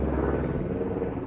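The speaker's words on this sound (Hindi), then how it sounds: "हाँ जी हेलीकॉप्टर है वो।" A helicopter flies nearby in Uttarkashi, its continuous low thudding rumble and rotor roar filling the air steadily at close range, with no clear talk over it.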